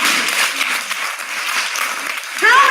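A conference audience claps together, a sustained patter of many hands that swells and dips slightly, with a voice briefly emerging near the end.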